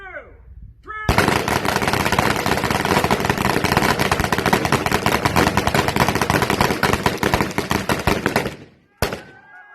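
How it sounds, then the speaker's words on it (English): Sustained automatic gunfire at an outdoor Labor Day shoot, aimed at cutting a 2x4 plank in half, a continuous, dense roar of shots lasting several seconds before stopping abruptly, loud and close. "participants were given a chance to try and cut the plank in half with sustained fire"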